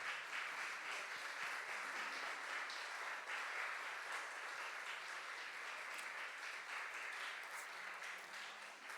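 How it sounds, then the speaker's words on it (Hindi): A church congregation at a Sunday service applauds the children who performed, steady, dense clapping sustained throughout at a moderate distance, with no speech over it. "अच्छी तालियां बजाओ जरा सा।"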